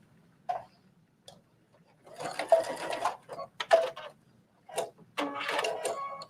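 Sewing machine back stitching a garment shoulder seam in short bursts, rapid mechanical ticking that starts and stops several times, close and clear with quiet pauses between runs.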